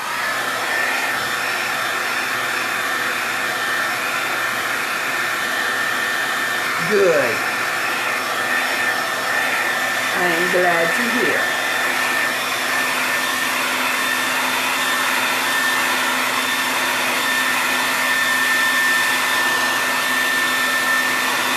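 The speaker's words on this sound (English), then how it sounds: "we're going to hit it with that blow dryer" A blow dryer whirs loudly and continuously throughout while drying chalk paste on Christmas decor, and a person speaks briefly over it.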